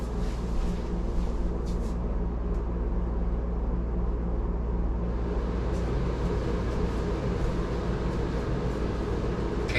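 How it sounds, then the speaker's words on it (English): A NewAir air conditioner blower runs on high speed, giving a steady, loud, unbroken whooshing hum with a deep low rumble throughout. "that's one roof air conditioner now running on the blower on high speed"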